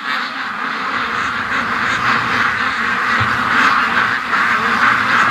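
A flock of domestic ducks clustered together in a yard keeps up continuous, overlapping quacking and chatter at moderate distance, steady throughout with no talk.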